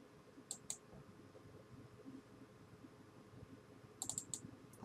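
Sharp computer mouse clicks come in small bursts, two early and a cluster near the end, over a quiet background with faint low rustling.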